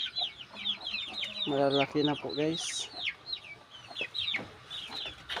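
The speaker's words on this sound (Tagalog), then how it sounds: "Ito po yung aking mga sisiyo." Chicks peep busily in a backyard chicken coop while hens cluck nearby, a steady close chorus of high cheeps with a few lower clucks, under a man's brief speech.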